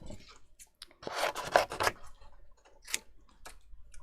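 Scissors cut through light grey cardstock for a Valentine's treat box in a quiet room. A few close, crisp snipping and rustling bursts come in uneven clusters, with short pauses between them and no talking.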